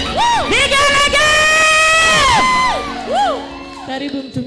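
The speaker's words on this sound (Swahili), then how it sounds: "Shangwe na vigelegele." A church crowd at an outdoor service cheers and ululates, loud high trilling whoops rising and falling over a dense shouting crowd, close and continuous.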